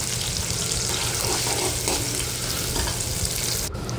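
Tomatoes sauté in hot oil for a prawn curry, a dense continuous frying hiss with faint stirring underneath that cuts off abruptly near the end.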